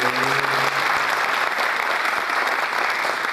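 Sustained audience applause for pilgrims on a padyatra foot pilgrimage to Shirdi, a dense, steady clapping from a large crowd that holds at an even level from start to finish, with no voices rising above it.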